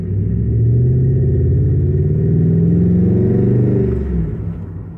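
A Hemi 5.7 pickup truck engine with a misfire revs while parked, a loud, close, rumbling roar with an uneven, stumbling pulse that rises and then eases off near the end, with no voices over it.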